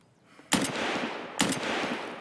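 Two loud, sharp shots from an SVD sniper rifle in a woodland video game raid, each crack followed by a long rolling echo, spaced about a second apart, with no voices.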